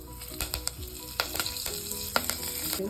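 Curry leaves crackle and sizzle sharply in hot ghee, with brisk popping bursts over a steady frying hiss.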